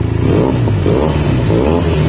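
Close, loud exhaust from a Benelli TNT 300 motorcycle with an IXIL X60 silencer and dB killer, revving in short blips over a throbbing idle.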